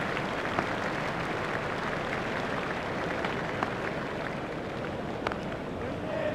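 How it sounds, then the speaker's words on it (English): A large cricket crowd in New Zealand versus Australia applauding a boundary four, a steady wash of clapping and cheering that holds evenly from a distance throughout. "The crowd enjoyed that one."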